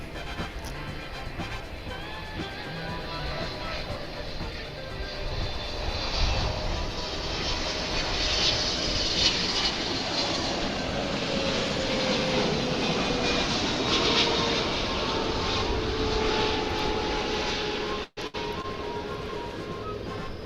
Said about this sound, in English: why not focus in on another heavy jet? This is coming in from Tokyo. It's Japan Airlines Flight 12.